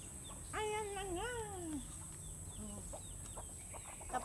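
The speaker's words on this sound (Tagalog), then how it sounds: "Tapos na tayo nagpakain ng ating mga manok" Chickens cluck and call nearby, with one drawn-out rising squawk followed by softer scattered clucks over a faint steady hum.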